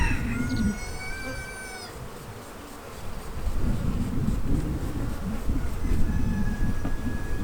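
Honey bees swarming out of a hive super, a loud dense buzzing close up with individual bees whining past, a continuous hum throughout.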